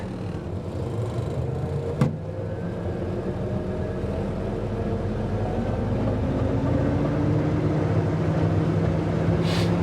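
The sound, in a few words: 1952 Willys M38-CDN military jeep driving off in first gear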